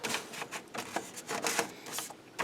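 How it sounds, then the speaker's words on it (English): An HP OfficeJet Pro 8710 printer waking as a document feeds into its automatic document feeder: a series of close mechanical whirs and clicks in irregular bursts, with no talk over them. "I'm going to put this in the ADF, which will wake the printer up automatically"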